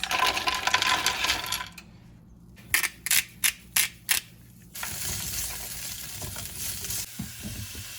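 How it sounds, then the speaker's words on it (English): Frozen green beans fry in a pan with a loud crackling hiss that stops briefly while several quick sharp clinks ring out in a row, then the sizzle resumes at full strength, close and without talking. "I'm gonna try and fry off these frozen green beans"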